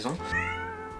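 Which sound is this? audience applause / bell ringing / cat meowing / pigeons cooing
cat meowing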